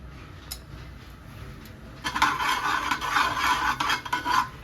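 Cumin seeds hit hot oil in a pan and burst into a steady, close sizzle with faint crackles that continues without a break after a quiet start.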